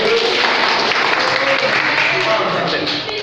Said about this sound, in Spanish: Un aplauso a los compañeros.